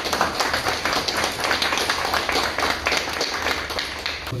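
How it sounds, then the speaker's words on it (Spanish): Audience at a photo exhibition for a district patronal festival in Chilia claps steadily, a dense, moderately loud round of applause throughout. "Un fuerte aplauso."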